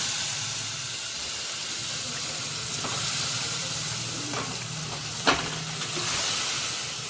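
Cooked lentils go into a sizzling tempering of oil, dried red chili and turmeric for cucumber dal, a steady hissing fry with a few sharp clinks of a utensil against the pan.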